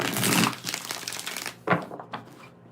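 Tarot cards are shuffled by hand in a burst of crisp papery riffling and rustling, which then breaks into a few shorter separate swishes and fades out.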